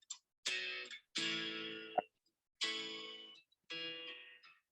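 A song playing faintly, heard as four separate sung or played phrases with short silent gaps between them.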